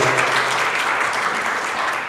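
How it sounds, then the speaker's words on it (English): A conference audience at a marketing leaders' summit gives a loud, dense round of applause, continuous clapping throughout with no talk over it. "Bigger round of applause."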